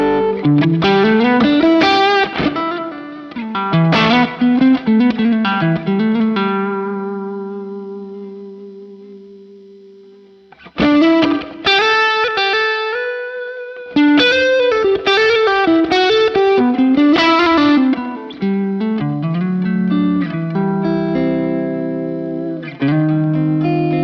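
An electric guitar played through a T808 overdrive on a Fractal Axe-Fx III amp modeler rings out in driven chords and melodic phrases, with a long sustained note decaying into a brief silence before playing resumes, loud and close.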